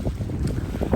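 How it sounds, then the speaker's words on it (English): Strong gusty wind buffeting a microphone outdoors by a river boardwalk in Cocoa, Florida, with rough low-pitched rumbles pulsing irregularly throughout. "it's super windy all of a sudden, so I apologize for the noise"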